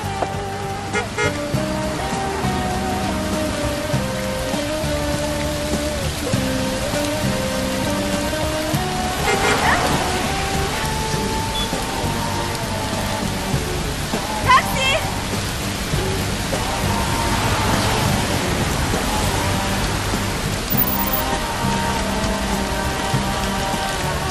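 Steady heavy rain pours on surfaces outdoors, a dense continuous hiss with occasional louder splashes, loud and close, with voices faintly under it.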